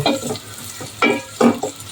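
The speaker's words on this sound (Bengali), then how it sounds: "এখন আমি তেল দিয়ে দিয়েছি হাঁড়িতে এখন পেঁয়াজ কুচি দিয়ে দিব" Chopped onions frying in oil in a pot, loud close sizzling with scraping stirs in bursts, no talk.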